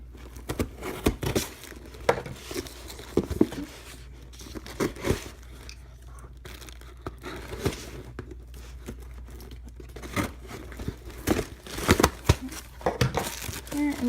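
Heavily taped cardboard box of BrickLink Lego parts being torn open: repeated crinkling, ripping and tearing of tape and cardboard close up, with quiet pauses between bursts.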